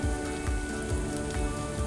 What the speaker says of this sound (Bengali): উল্টিয়ে পাল্টিয়ে ভেজে নিতে হবে।